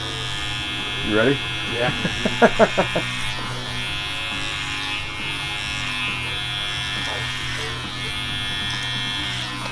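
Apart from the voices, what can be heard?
electric hair clippers with a number two guard cutting hair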